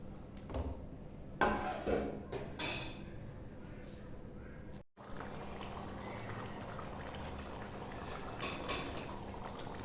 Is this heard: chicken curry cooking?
yes